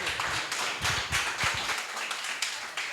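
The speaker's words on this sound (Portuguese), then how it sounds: "Aplauda o Senhor em nome de Jesus" Congregation clapping together during an evangelical church service, a dense, steady patter of many hands in a reverberant hall, with stronger rhythmic bursts in the first half.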